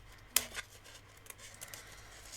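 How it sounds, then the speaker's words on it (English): Scissors make one sharp snip through card stock for a travel-themed greeting card, followed by a few softer cuts, close up against a quiet room. "I'm just going to take my scissors now"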